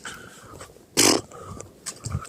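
A big dog being walked outdoors gives one loud, short bark or huff that sounds fairly close. Softer noises follow over a steady background of outdoor noise.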